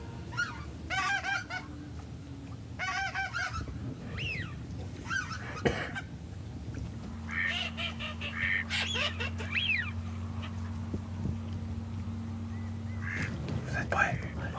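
Ducks call repeatedly around a hunting hide in Pas-de-Calais, a string of short nasal calls near and far, with a steady low hum through the middle and faint voices in the background.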